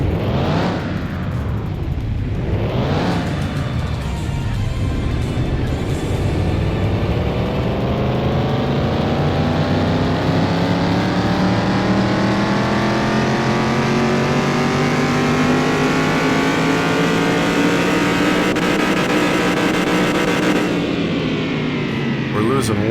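A car engine revving hard on a dyno in Car Mechanic Simulator 2021, loud and sustained, rising in long sweeping climbs that hold near the top for many seconds before easing off, with brief sharp revs at the start.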